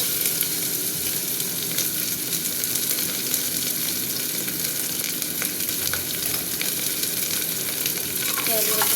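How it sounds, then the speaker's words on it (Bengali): Onions frying in hot oil in a pan, a steady close sizzle and crackle that holds evenly throughout with occasional stirring scrapes. "পেঁয়াজগুলো একটু ভাজা ভাজা হবে।"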